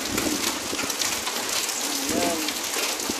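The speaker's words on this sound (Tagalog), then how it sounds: "umulan talaga ng yelo dito sa amin sa Damam" Hail pelts down outside an office in Dammam, a dense steady hiss of impacts with sharp individual hits, while a bird coos faintly and a voice speaks softly in the background.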